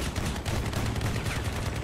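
Reaper guns in the vehicle combat game Crossout fire in a continuous, rapid automatic burst, loud and close, with a dense, steady rattle that never pauses.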